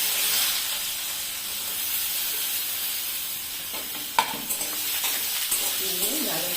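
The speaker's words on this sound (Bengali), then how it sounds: "গাজরটা ভেজে নিচ্ছি।" Carrots sizzle and fry in a hot pan for vegetable fried rice, a steady hiss with a few stirring clinks and scrapes near the end.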